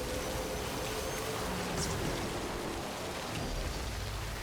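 Steady rainfall in the video game Death Stranding, a dense continuous hiss with a faint low rumble, alone without voices.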